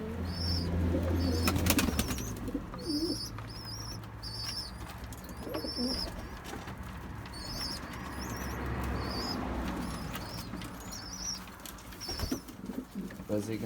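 Racing pigeons coo softly while loud bursts of wing flapping break in nearby, over a constant low background hum.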